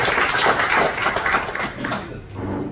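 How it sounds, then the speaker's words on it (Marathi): Audience at a book launch claps together, a dense burst of applause that fades out toward the end. "त्यांच्यासाठी आपण सर्वांनी एकदा जोरदार टाळ्या वाजवून त्यांचे कौतुक करूया"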